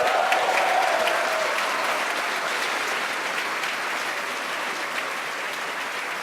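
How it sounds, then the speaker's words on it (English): A crowd watching a SpaceX Falcon 9 launch applauds and cheers continuously, dense clapping loudest at the start and slowly easing off, with scattered whoops over the steady applause. "you can hear the cheers behind me"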